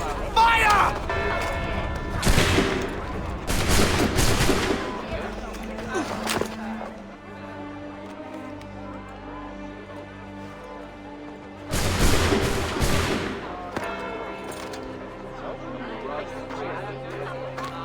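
A ragged volley of musket fire in the Assassin's Creed 3 video game, with two loud bursts of crackling shots separated by a lower rumble, set among game music and crowd noise.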